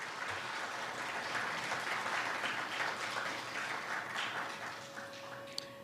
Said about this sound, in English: So a round of applause for that as well.